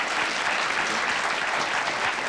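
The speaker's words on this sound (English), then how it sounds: "It's indeed something to applaud" Steady applause from a TV studio audience on a talk show, loud and continuous throughout with no voices over it.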